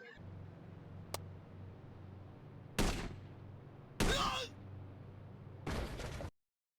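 Sniper rifle shots in a video game ring out as three sharp, loud cracks spread over a few seconds against a low steady hum.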